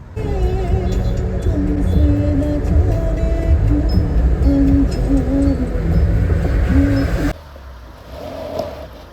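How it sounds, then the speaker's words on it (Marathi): Mahindra Thar Roxx engine pulling in four-wheel drive off-road over deep, uneven ground, a loud steady drone with rising and falling revs that cuts out abruptly near the end, leaving a quieter rumble. "चल आपण ट्राय करू आता इथून गाडी 4 व्हील ड्राईव्ह मध्ये निघते का नाही निघत"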